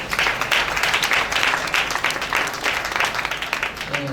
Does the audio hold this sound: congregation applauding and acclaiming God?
yes